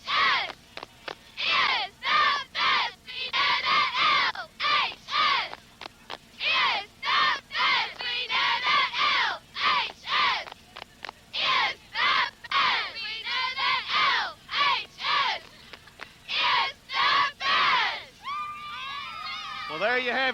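Cheerleaders lead a crowd before a 1997 Luverne high school football semifinal, chanting in loud rhythmic bursts with short pauses between each call and response, rising into a rough cheer at the end.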